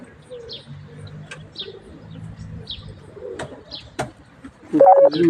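Pigeons that escaped from a coop coo softly in short repeated calls, with small chirps and a louder burst near the end, no talking.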